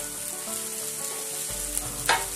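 Onions and carrots frying in a pan, a low steady sizzle with a faint clink near the end and no talking.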